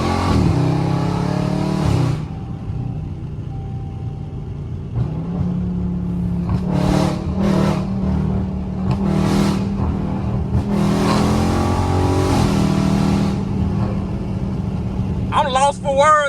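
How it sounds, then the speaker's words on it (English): A Dodge Charger Scat Pack with catless mid pipes revs hard in repeated bursts over a deep rumbling idle, loud and close, with someone talking briefly between revs. "I'm just let y'all hear the exhaust, man."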